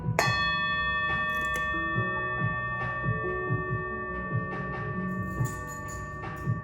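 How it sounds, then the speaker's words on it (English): A single bell strike rings out with a long, shimmering sustain that slowly fades, while softer clinks and knocks sound in the background. "you're going to hear this bell"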